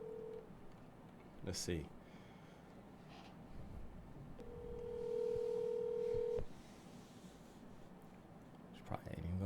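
A phone is put on speakerphone: short dialing tones, then a steady long tone of ringing, with faint clicks and a quiet voice at the start and end.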